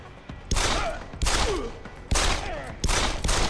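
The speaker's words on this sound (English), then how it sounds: "Come on, shoot this pistol fast." Pistol fire in Deus Ex: Human Revolution, four loud gunshots spaced roughly a second apart, each a sharp crack trailing into a long ringing decay over constant game background noise.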